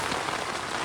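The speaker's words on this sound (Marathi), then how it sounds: "निस्पाड आला पाऊस" Heavy rain pours down in a dense forest campsite, a steady, loud, hissing wash of drops with no breaks.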